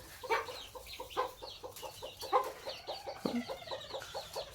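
Hens clucking in a home yard, including a mother hen with young chicks, a steady run of close, repeated clucks with short pauses and no voices.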